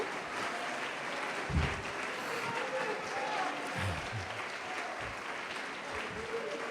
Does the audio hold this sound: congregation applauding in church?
yes